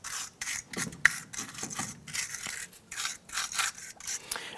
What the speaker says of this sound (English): use a wire brush to clean any rusty debris off of this here